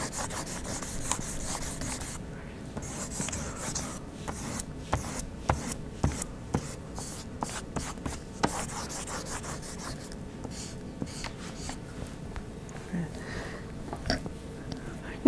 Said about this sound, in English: I'm going to switch to the rubber eraser here.